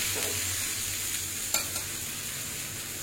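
A moong and oats chila fries in a pan with a steady soft hiss of oil, close and even, broken by a brief scrape of a spatula partway through, with no speech.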